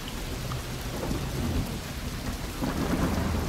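Steady heavy rain with low rumbling thunder fills a Desperados III cutscene, a dense, loud, continuous wash of rain and no voices.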